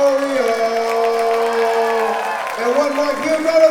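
An audience at a dance battle event cheers and whoops, with sustained vocal shouts and crowd noise over a few seconds and light applause beneath.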